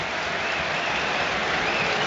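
Southampton supporters at a Premier League match against Man Utd roar as a corner kick is awarded, a broad, steady crowd wash of cheering and clapping that holds evenly throughout with no clear voices standing out.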